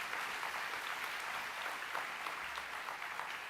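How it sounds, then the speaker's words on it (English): Graduation ceremony audience for a university class of 2025 cheering and applauding in a large hall, a dense, steady wash of clapping and whoops held throughout with no break. "Can I have a big cheer for you?"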